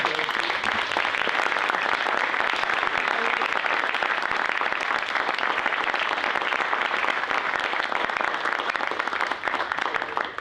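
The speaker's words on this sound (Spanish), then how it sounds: "que te hagan hacer un aplauso para festejar el momento" A crowd applauds steadily, dense clapping sustained at an even level for about ten seconds.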